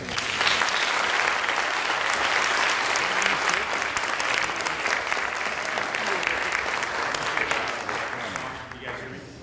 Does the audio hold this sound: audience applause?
yes